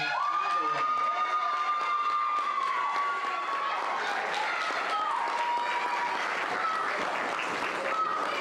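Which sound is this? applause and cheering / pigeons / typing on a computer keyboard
applause and cheering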